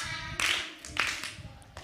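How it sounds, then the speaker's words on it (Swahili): A group claps for themselves in a lively burst of hand claps, with several sharp, close claps standing out from a steady background of applause. "Jipigie makofi mzito."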